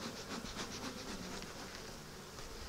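Honeybees buzz at an open hive during an inspection, a faint, steady, continuous drone of many wings with no voices.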